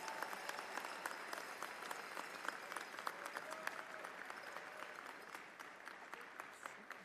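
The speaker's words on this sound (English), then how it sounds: "We can clap for them." A commencement audience claps for standing graduates at a fall undergraduate ceremony, a sustained, even patter of many hands that fills the hall and then slowly thins out.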